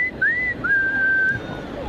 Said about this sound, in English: but that whistle, piercing.